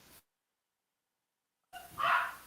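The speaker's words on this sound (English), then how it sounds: "That might be why they're barking." Small, yappy dogs bark once near the end after a long stretch of silence, a single short, fairly faint burst heard from some distance indoors.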